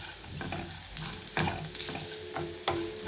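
One cup of grated fresh coconut is deep-fried in a pan for coconut rice, with a steady soft sizzle broken by repeated scraping strokes of a spoon stirring it, close and fairly quiet.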